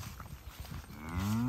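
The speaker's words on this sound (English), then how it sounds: "Hey, cow." A cow on a grazing pasture gives a single low moo that swells near the end, preceded by soft rustling and shuffling nearby.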